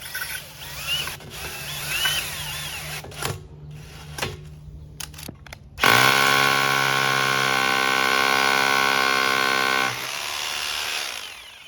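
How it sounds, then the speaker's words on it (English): Close Bosch rotary hammer drilling into concrete, a loud steady pulsing grind lasting several seconds after some clattering handling noises, then easing off. "just drilling the holes and putting the screws in one by one"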